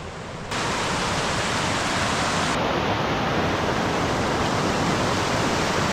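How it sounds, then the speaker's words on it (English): Mountain creek rushing at a trail crossing on a Colorado fourteener, a loud, dense, steady roar of flowing water that swells in just after the start and stays constant, close by with no voices. "That was a creek crossing, little bridge there, so assuming that stays, your feet stay dry."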